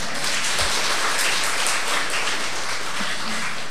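Audience applause at a Vietnamese Buddhist nun's dharma talk, dense steady clapping from a crowd that fills the whole stretch without a break.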